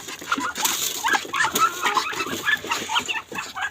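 Farmyard chickens cluck and squawk in a busy, overlapping chorus at feeding time in Ilocos, close and steady throughout with no talk.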